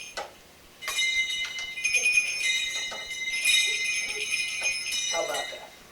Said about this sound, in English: The ringing bells of Santa's sleigh.